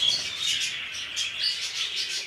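Rainbow cobalt budgerigars, a yellow-face pair with violet factor, chirp and tweet in quick, bright bursts, close by and moderately loud, with no voices.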